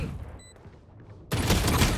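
Valorant gunfire bursts out suddenly after a near-quiet stretch, loud, dense and close, filling the last part of the moment with rapid crackling shots.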